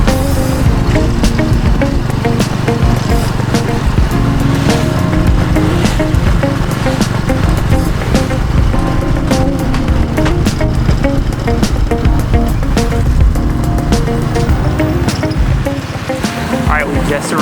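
Loud, steady engine drone and road rumble from a moving tuk-tuk on a dusty road near Angkor Wat in Cambodia, with constant wind buffeting and rattling throughout.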